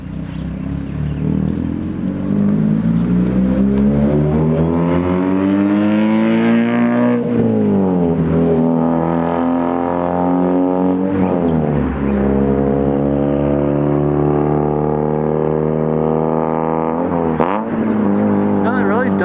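NA Mazda Miata with a custom exhaust revving at about quarter throttle, a loud, close, steady engine drone rising and falling in pitch through several rev sweeps across the whole stretch.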